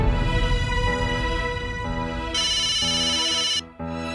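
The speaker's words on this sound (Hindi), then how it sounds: "भिड़े अंकल का फोन।" Telephone ringtone ringing continuously, a steady electronic melodic tone that shifts pitch partway through before cutting off abruptly near the end, with no talking.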